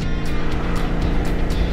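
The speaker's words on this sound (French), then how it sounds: "toutes les motos démarrent" A group of motorcycles on a road in Iceland rumble as they start and pull away together, a loud, close, steady engine drone with rhythmic swells as the bikes move off.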